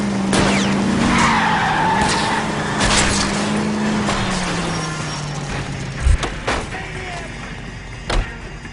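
A car in the L.A. Noire video game skids through a chase, its tires squealing loudly over a droning engine. A couple of sharp impacts land near the end.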